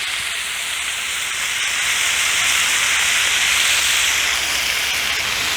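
Burger patties sizzle loudly on a Blackstone griddle as they are smashed flat for BBQ smashburgers, a steady close hiss with no talk.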